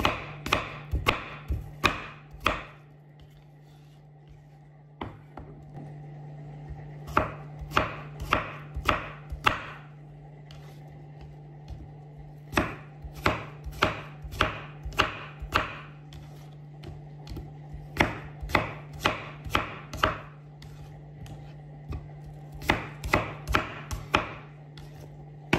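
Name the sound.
chopping apples with a knife for apple cake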